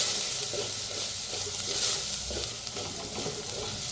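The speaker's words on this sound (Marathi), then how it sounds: "कसं तेल सुटते बघा कडनी मसाले भाजताना." Ground coriander, turmeric and red chili powder roast with tomato and onion in oil, a steady close sizzle with soft rhythmic scrapes of a spoon stirring the pan, no voices.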